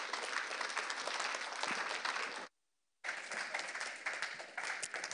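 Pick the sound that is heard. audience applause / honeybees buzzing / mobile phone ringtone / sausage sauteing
audience applause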